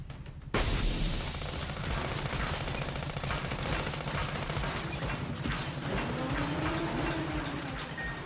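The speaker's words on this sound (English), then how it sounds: "Smoke bomb!" A smoke bomb going off in Sand Land, a sudden burst followed by a dense, continuous hissing and crackling roar that stays loud and steady throughout.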